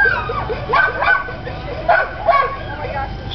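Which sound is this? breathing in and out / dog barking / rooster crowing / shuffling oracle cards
dog barking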